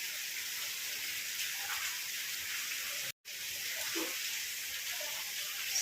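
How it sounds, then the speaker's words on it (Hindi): Heavy rain pours steadily outdoors on wet streets and lanes, a dense, continuous hiss at an even level with one brief dropout. "पर बारिश तो अभी से ही चालू हो गई है, बहुत जोर से आ रही है, अच्छी बारिश आ रही है।"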